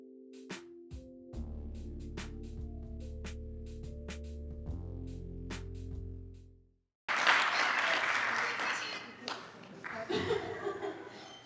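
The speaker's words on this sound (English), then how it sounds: "let's give up another round of applause for all our friends in the documentary" Applause at a 2022 film festival screening, with clapping and cheering that swells after a short gap, preceded by faint tonal music and scattered claps.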